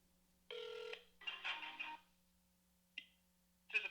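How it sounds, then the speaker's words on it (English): Touch-tone dialing on a telephone, a few short tonal beeps with gaps between them, the last two coming in quick isolated bursts, clear against a quiet line with a faint steady hum. "Let me just dial this number."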